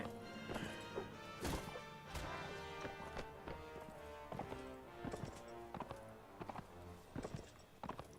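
Horse hooves clip-clop in Mount & Blade: Warband, loud and close, mixed with sharp clashing hits and thwacks from melee combat, irregular and busy throughout.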